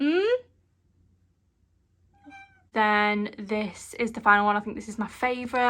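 Cats meow loudly indoors, one rising cry at the start and later a string of insistent, drawn-out meows, partly overlapping someone talking.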